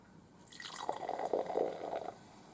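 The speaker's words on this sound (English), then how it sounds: "So let me pour up in the cup." Orange soda from Gaza poured from a bottle into a cup: a soft splash that builds into a steady liquid stream and fizz for about a second and a half, close and fairly quiet, no talking.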